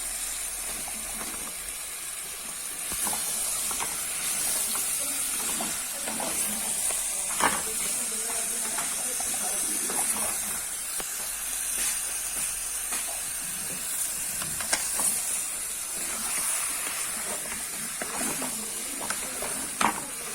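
Zucchini with spices simmers in a pan, a continuous soft sizzling hiss with faint scattered pops and occasional light stirring clicks, steady and close throughout.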